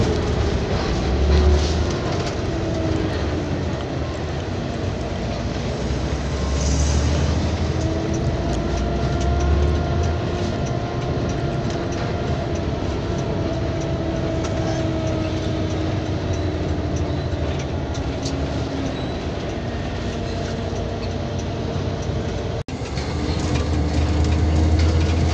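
Interior of an economy PT. ALS intercity bus without a toilet, travelling toward Pekanbaru: a steady, continuous drone of engine and road noise with low rumble and rattles, no talking.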